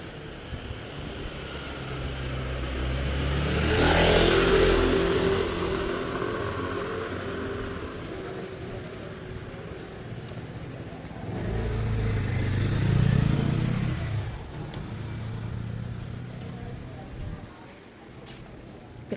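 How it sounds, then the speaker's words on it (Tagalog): Motorbikes, some of them Kymco, pass along a road in two separate engine swells that rise and fade as each group goes by, with traffic rumbling underneath and faint voices. "A lot of motorbikes."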